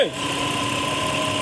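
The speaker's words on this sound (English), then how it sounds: "And the AC compressor is working right now." Kia Rondo engine idling with its AC compressor engaged, a steady close mechanical hum with a droning tonal whine over a faint rattly vibration, after a brief sound at the very start.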